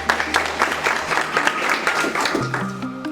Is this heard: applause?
yes